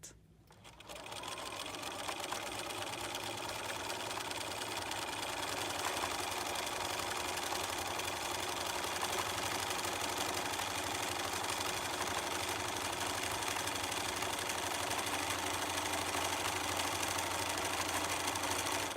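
A sewing machine runs an embroidery stitch, a loud continuous fast mechanical whirr with a rapid needle chatter that holds steady throughout after a brief start.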